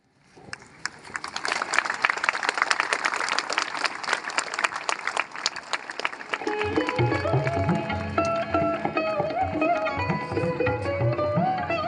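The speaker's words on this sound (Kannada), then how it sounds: "ಜೋರಾದ ಚಪ್ಪಾಳೆ ಮೂಲಕ ಅವರಿಗೆ ಅಭಿನಂದನೆಗಳನ್ನು ಸಲ್ಲಿಸೋಣ." An audience at a Kannada Rajyotsava award ceremony in Bengaluru bursts into loud, dense applause that builds and holds for several seconds, then continues under instrumental music that takes over.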